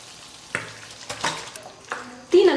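Chicken goes into a hot pan of onion masala: soft sizzling and frying with a few scraping stirs and clinks, under a light hum, ending in a brief louder clatter.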